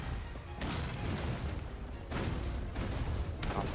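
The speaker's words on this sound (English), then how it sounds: "Run away from the giant explosion." Big explosions in Assassin's Creed Syndicate erupt as a string of broad, rumbling blasts, one after another at uneven gaps over a constant roaring din, fairly distant and muted in level.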